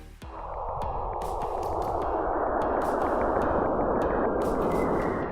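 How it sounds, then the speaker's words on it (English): Plasma waves between Saturn and its moon Enceladus, recorded by the Cassini spacecraft and converted to sound, form a dense hissing, crackling roar that swells in and holds steady, with faint whooshing sweeps and a few sharp pops on top. "That's the sound of plasma waves moving between Saturn and its moon Enceladus."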